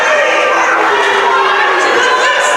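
A women's college basketball crowd at a Durham College versus Centennial College game erupts in loud, sustained shouting and jeering, dense voices blending into a continuous roar.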